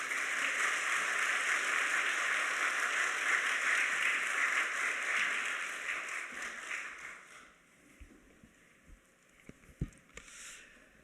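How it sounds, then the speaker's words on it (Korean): Church congregation applauding to welcome a pastor at a 51st anniversary worship service: a broad, sustained round of clapping for about seven seconds that fades out, leaving a few scattered faint bumps. "오늘 올라오실 때 따뜻한 사랑을 담아 큰 박수로 모시겠습니다"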